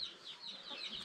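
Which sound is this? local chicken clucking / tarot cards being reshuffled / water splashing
local chicken clucking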